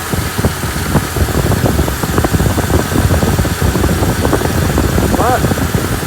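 A 1966 Ford Galaxie with a 7-litre V8 idles steadily up close with a loud, continuous rumble, running with heavily advanced base timing.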